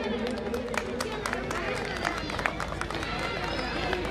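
Many hands clap at a Holi Milan ceremony as a guest is honoured with a memento, sharp individual claps popping out of a busy wash of crowd chatter, sustained for several seconds.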